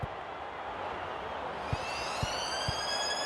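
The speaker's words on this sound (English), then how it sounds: "The siren has sounded, and that brings us to the end of the first half." End-of-half siren from the Rugby League 26 video game, sounding at a Super League grand final between Hull FC and Salford: a steady rising tone swelling over continuous crowd noise, with a few low thumps beneath.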